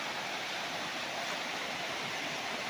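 A river beside a farm lot in Majayjay, Laguna rushes in a continuous, loud broadband wash of flowing water, steady and unbroken throughout with no voices.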